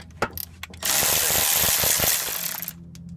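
A manual ratchet wrench worked on a brake bolt of an old GM 8-lug K truck front disc brake: scattered clicks at first, then about two seconds of fast, continuous pawl ratcheting up close, tapering into a few final clicks.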